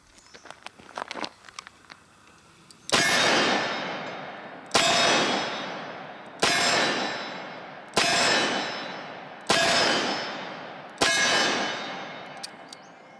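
Six loud, sharp gunshots from a Smith & Wesson Model 66 Combat Magnum .357 Magnum revolver with a 2.75-inch barrel, fired one-handed, come at roughly even intervals of one and a half seconds, each ringing out briefly after a few faint clicks and rustles.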